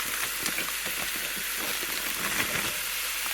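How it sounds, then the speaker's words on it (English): Mushrooms, peppers and onions frying in a pan give a steady, fairly loud hiss and sizzle with small crackles throughout, with no voices. "I'm going to dump all of those mushrooms in there. And then I'm going to put the peppers and onions in too. And let those all just start to fry up."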